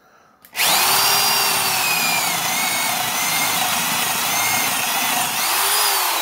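A Miller's Falls spade bit bores into wood, starting after a brief quiet moment and then running as a loud, steady power-drill whine with grinding for several seconds, close up and with no talking.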